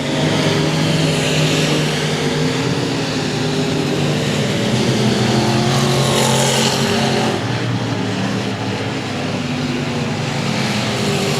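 Race cars roar around the 281 Speedway oval in a competitive heat, their engines a continuous loud drone that swells and fades slightly as the pack passes, with an announcer's commentary over the top.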